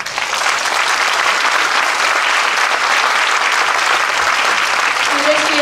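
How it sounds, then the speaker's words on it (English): Concert audience at a school arts festival variety show gives a choir a full, even round of applause, dense clapping that holds steady and loud through the whole stretch. "Let us give them another round of applause"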